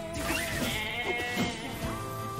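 Sheep bleating in the video game Nier Replicant, several wavering bleats in quick succession layered over steady game music, fairly close and clear.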